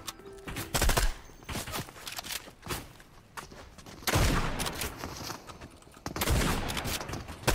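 Shotgun blasts ring out in Fortnite, with several loud, sharp booming shots spaced irregularly amid footsteps and quieter game noise.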